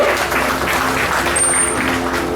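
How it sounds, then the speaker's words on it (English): An audience at a dolphin show claps in steady, dense applause for a dolphin's trick, with even loudness throughout and a faint whistle-like tone partway through. "Give Delilah a nice round of applause."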